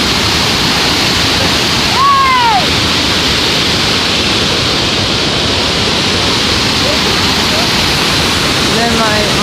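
Fast-flowing waterfall in Mexico roaring as a loud, steady broadband rush, with a voice speaking briefly over the torrent.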